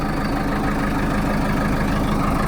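A heavy construction machine engine idles steadily with a loud, constant low rumble and no variation, close by.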